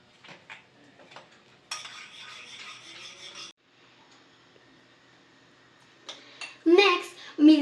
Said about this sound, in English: wipe the heavy cream until it becomes stiff and hold its shape